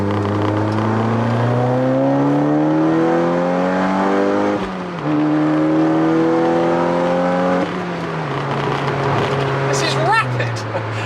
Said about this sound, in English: let me just drop to third for a bit of bounce